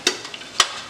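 Mutton being roasted in a handi for an Azamgarh-style recipe after long cooking: two sharp spatula scrapes against the pot over a soft sizzling background, close and brief.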